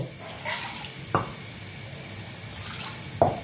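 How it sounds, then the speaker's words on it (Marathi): Water pours steadily into a pot with a soft rushing hiss, broken by two brief clinks of metal, no voices. "आता हे पाणी पण टाकते"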